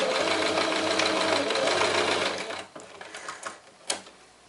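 A sewing machine stitches the side seams of a fabric pouch. A steady close mechanical whir runs for about two seconds, then it slows and stops, leaving a few light clicks and taps.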